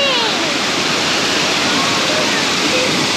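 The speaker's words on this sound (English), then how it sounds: "Found a little water crossing on the road, so gonna pull up and have a dip" Water rushing over a road crossing on an outback track, a loud, steady broadband gush close by that fills the whole stretch, with faint voices barely audible beneath.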